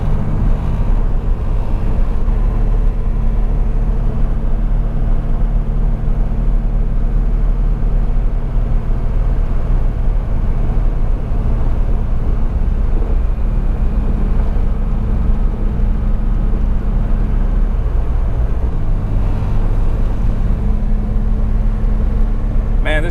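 A car with a 63-year-old engine cruising along a country road, a steady, loud low-pitched engine drone and road rumble heard from inside throughout, with a slight shift in tone near the end.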